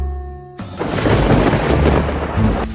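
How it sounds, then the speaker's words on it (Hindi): Thunder booms over heavy rain, a loud rolling rumble with dense rain hiss that cuts in abruptly after a short tonal musical passage. "ये बिना मौसम की गरजती हुई बारिश हमें क्या संकेत देती है?"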